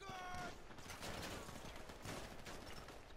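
Gunshots in Grand Theft Auto V Online, a dense fusillade of rapid shots that are faint and noisy, running steadily with no clear voices.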